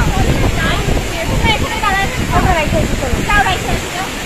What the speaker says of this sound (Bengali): এই দেখো ঢেউগুলো দেখো, কত বড় বড় ঢেউ আছে।